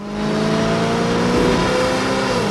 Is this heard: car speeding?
yes